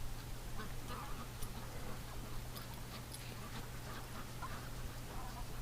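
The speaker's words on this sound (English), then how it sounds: "the ducks are coming outside" Ducks quack faintly and intermittently as they come outside in winter, scattered soft calls spread across a steady low hum and broad background noise.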